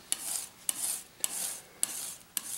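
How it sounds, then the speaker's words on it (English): A paintbrush is scrubbed to work turpentine out of its bristles, giving five evenly spaced rasping strokes, each opening with a sharp scrape and trailing into a soft brushing hiss, close and fairly quiet. "This time I am cleaning my brush, but I'm really trying to get some of that Turp out of there."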